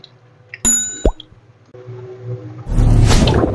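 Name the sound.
pork intestines (isaw) put in pot to boil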